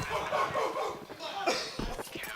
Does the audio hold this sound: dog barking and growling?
yes